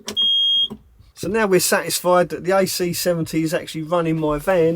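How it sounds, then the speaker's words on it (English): A gas alarm inside a camper van emits a single sustained electronic beep with faint overtones, followed by someone talking close by. "That noise you heard is my gas alarm."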